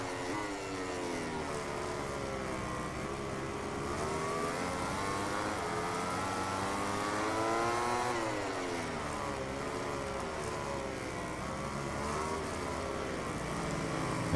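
Racing motorcycle engines in MotoGP 18 on a wet Buriram track, a high whining drone that rises and falls as gears shift, fairly faint and steady with another bike audible close behind, no talking.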